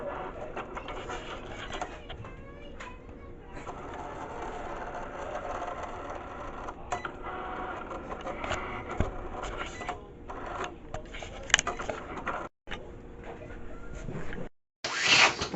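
A home printer and vinyl cutting machine run through an iron-on T-shirt design, a steady mechanical whirring and clattering with carriage movements and clicks, close and continuous, ending with brief pauses and bumps.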